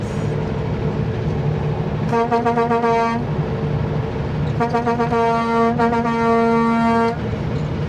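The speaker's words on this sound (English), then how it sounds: "so now we gotta do extra honking" Loud, close vehicle horn blasts on a snowy Canadian mountain highway, Highway 3 near Paulson: one sustained honk of about a second, then a longer honk broken by a brief gap, with road rumble underneath.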